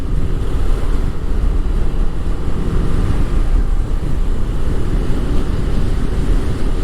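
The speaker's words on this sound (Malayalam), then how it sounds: "ചെറിയൊരു മഴക്കോളും ഒരു കാറ്റും ഒക്കെ ഉണ്ട്, കണ്ടില്ലേ?" Steady, loud wind roars and buffets the microphone during a highway ride toward Muthathi forest, with a gusty, rushing wash that persists throughout and no voices.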